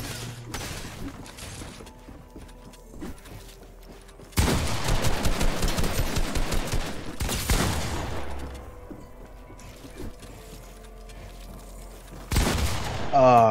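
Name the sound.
gunfire in a video game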